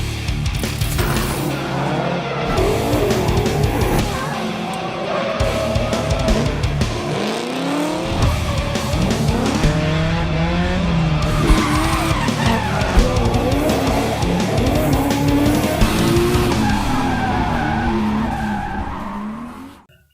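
A drift car sliding through a long session of continuous tire squeal and skidding, engine revving and surging underneath, loud and sustained for about twenty seconds before cutting off abruptly.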